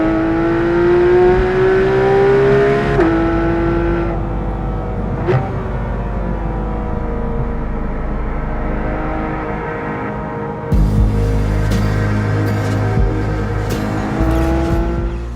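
A Porsche 911 GT3 RS drives hard on an Isle of Man road. The engine note climbs and drops through gear changes, then gives a sharp burst and a harder, rougher roar near the end, close and loud throughout.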